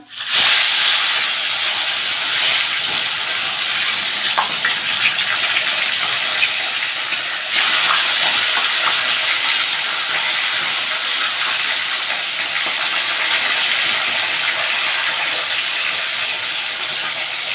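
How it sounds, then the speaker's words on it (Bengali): Salted, turmeric-rubbed bhola fish fry in hot oil in a kadai, giving a loud, continuous sizzling hiss that stays close and steady throughout, with a brief surge partway through. "প্রথমে যে মাছগুলো ভেজে নেব"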